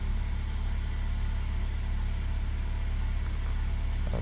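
A 2017 Ford Focus engine runs at a steady idle just after starting, a constant close hum with a low droning tone and no talk over it.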